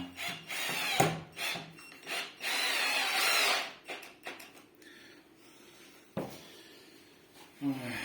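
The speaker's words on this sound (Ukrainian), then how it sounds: "Треба направляти шурупи, щоб вони не вилітали." A Mächtz MCD-12N-Li cordless drill drives screws into old dry chipboard in loud, close bursts of whirring and grinding, broken by pauses and sharp clicks.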